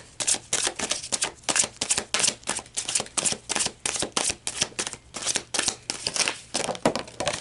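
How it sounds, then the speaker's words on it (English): Repeated riffle-shuffling of a tarot deck, crisp papery bursts in a steady rhythm, close and clear with no talking. "One more shuffle."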